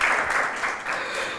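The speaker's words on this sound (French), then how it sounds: "On applaudit encore une fois." An audience at an interview event with a Rwandan actress gives a brief, loud burst of applause, dense and continuous with a slight dip near the end.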